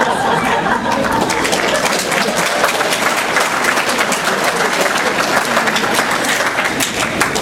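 A large university audience applauds continuously, a dense, steady wash of many hands clapping at even loudness throughout, with faint murmurs and chuckles underneath.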